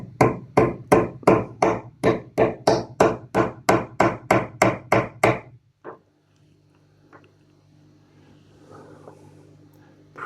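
A hammer pounds a wheelie bin about a dozen times in a fast, even rhythm. The sharp, close blows stop suddenly and leave a quiet room with faint rustling.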